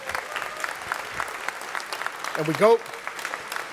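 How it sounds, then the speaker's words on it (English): Applause from a large audience at a university's 50th anniversary celebration, a steady wash of clapping filling the hall while someone speaks over it through a microphone. "Please give her a round of applause."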